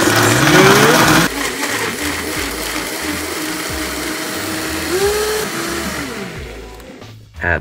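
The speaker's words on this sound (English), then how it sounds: "Oh, there's that beautiful Vitamix, so let's go for it. Blend it till it's nice and smooth." Vitamix blender whirring through beet and lemon juice, a loud close motor roar that holds steady, shifts pitch as the blades catch, then drops off near the end.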